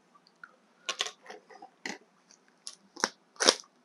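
Plastic packaging of a 7-Eleven rice meal being opened, a few scattered close crinkles and crackles with short pauses between them, quiet and alone.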